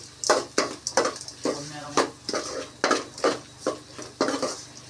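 Bitter gourd being sautéed in a pan for a tamarind curry, with a spoon repeatedly scraping and clanking against the metal in a steady rhythm of about ten strokes, close and fairly loud.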